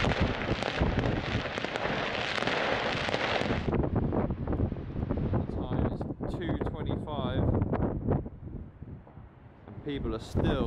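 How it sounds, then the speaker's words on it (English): Fireworks being set off all around at night in urban Rotterdam, with scattered pops and crackles from several directions under a constant windy rush, and people talking over them. "People are still shooting off fireworks everywhere. Every direction still."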